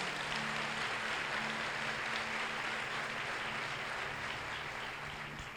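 A church congregation applauds together in a broad, sustained wash of clapping that fills the room, holding steady before fading slightly toward the end.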